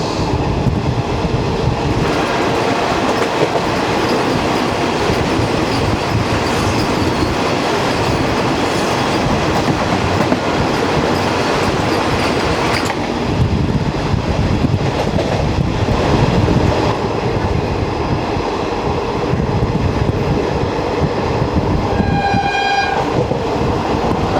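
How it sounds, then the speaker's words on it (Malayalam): Indian express train passes close by, a long steady roar of wheels and carriages with clickety-clack and a brief horn near the end, no voices. "Mangaluru central Thiruvananthapuram central Vande Bharat express"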